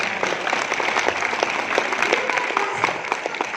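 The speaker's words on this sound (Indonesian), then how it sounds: "Tepuk tangan dulu." Applause from a seminar audience, brisk and continuous, with individual claps standing out sharply throughout.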